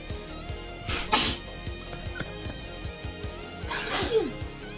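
Two sharp sneezes burst out a few seconds apart, each a loud breathy explosion against a quiet indoor background with faint clicking.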